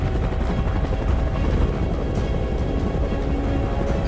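A helicopter flies close and loud, its steady rotor thrum and engine roar filling the whole stretch without a break.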